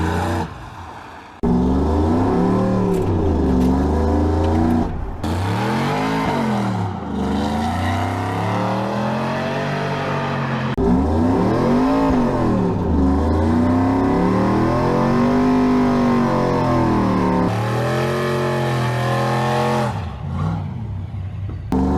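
Supercharged shop truck doing a burnout: a loud, sustained engine roar with repeated revving swells and pitch rises and falls, close by and continuous throughout with no talk.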